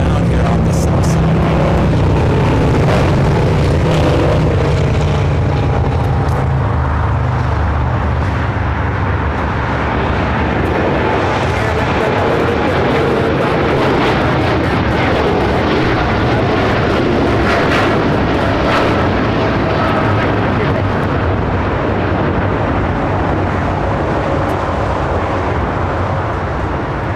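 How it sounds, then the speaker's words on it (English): United Boeing 787 Dreamliner rolling down the runway at LAX, a loud, continuous engine rumble and roar with heavy low-end noise, sustained throughout without letup. "Next arrival on the north side is that Dreamliner for United is now rolling down here on the south side."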